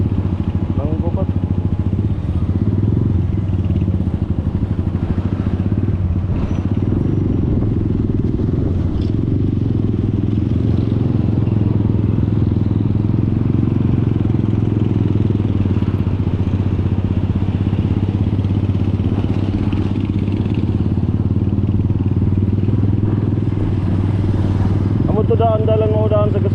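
A motorcycle engine runs steadily for the whole stretch with a constant low drone, and the surrounding talk is in Filipino.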